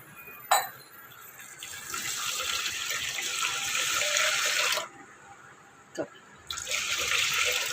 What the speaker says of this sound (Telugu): ఒక కప్పు సేమియా మునిగేదాకా నీళ్ళు పోసుకుందాం